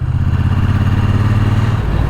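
A 2024 Triumph Bonneville T120 parallel-twin motorcycle rumbles steadily at close range, a low, even throb with a slight mechanical clatter.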